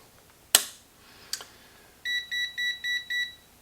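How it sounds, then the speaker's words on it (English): A sharp click, then a softer one, followed by five evenly spaced high-pitched electronic beeps, clear and close against a quiet background, during the first power-up of a 1953 Chevrolet vacuum tube car radio. "Somebody's beeping at me."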